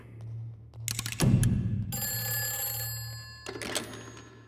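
A telephone rings in a short, bright burst of repeated electronic trills, starting after a click and thump, loud and close in an otherwise quiet room, with a second burst of ringing near the end.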